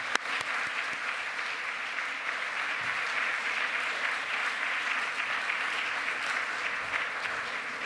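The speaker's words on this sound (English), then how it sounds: "please join me in a final round of applause for President Rudenstine and for all of today's distinguished speakers" Sustained audience applause fills a ceremony hall at the close of an afternoon program, steady and dense from start to finish with no pauses, with a faint murmur of voices beneath it.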